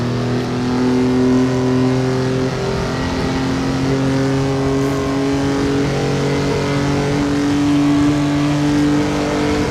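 Historic race car engine from the Assetto Corsa racing game at the Pau Grand Prix street circuit, droning loud and steady through a lap with sustained harmonic engine tones that shift pitch slightly as gears and speed change.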